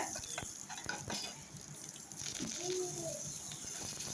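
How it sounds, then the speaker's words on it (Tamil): Steady crackling and spluttering of a teaspoon of mustard seeds popping in hot oil, close and continuous, with faint stirring and background hiss. "கடுகு ஒரு டீஸ்பூன் போட்டுக்கோங்க அது நல்லா பொரியட்டும்"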